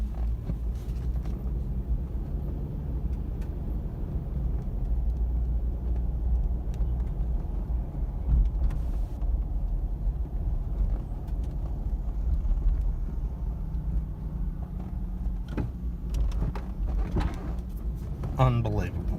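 A high-mileage 2005 Toyota 4Runner, two-wheel drive with nearly 400,000 miles, rolls along with its air conditioning off, giving a steady low engine and road hum with occasional interior clunks and a brief voice near the end.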